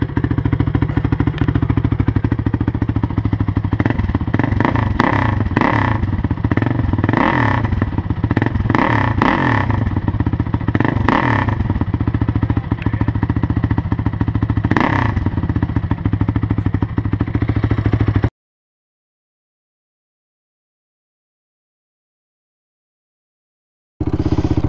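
A 2005 Honda TRX450R ATV engine drones loud and steady while riding, with repeated revving surges, and then cuts to silence for several seconds near the end before sound briefly returns.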